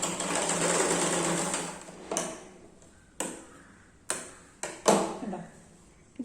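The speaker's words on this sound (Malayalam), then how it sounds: "നമുക്ക് ഇവിടെ നിന്ന് താഴേക്കൊന്ന് സ്റ്റിച്ച് ചെയ്തെടുക്കാം" A sewing machine stitches a blouse seam, running steadily for about two seconds and then giving several short, sharp bursts with gaps between them, close and clear.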